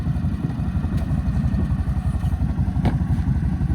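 Engine of a CFMOTO X8 EFI ATV with a variator and water cooling, idling steadily close by with a loud, even mechanical chug and clatter running throughout.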